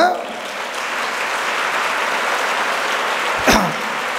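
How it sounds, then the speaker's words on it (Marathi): An audience claps at a birthday felicitation gathering, a dense, steady wash of applause lasting throughout, with a brief louder burst near the end. "त्यांच्यासाठी एकदा मनाभातून टाळ्या वाजवायच्यात म्हणून."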